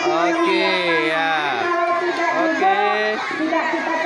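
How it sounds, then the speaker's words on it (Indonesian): Noisy crowd of spectators shouting and cheering encouragement at a school sports race, children's voices overlapping continuously throughout, fairly close and loud with chatter mixed in. "Inilah penonton juga ribut dalam memberikan semangat untuk"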